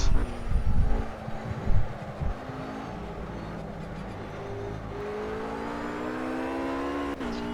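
A Ruf RGT-8 GT3 race car in Project CARS at Silverstone GP holds a steady engine drone with rising harmonic whine as it accelerates, loud and close, with a few rougher bursts early on.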